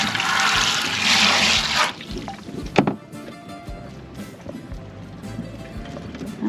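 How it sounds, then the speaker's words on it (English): Freshwater wash-down spraying on a boat deck, a loud rushing hiss of water for about two seconds that stops abruptly, followed by a clunk and quieter dripping and handling sounds. "this is my freshwater wash down"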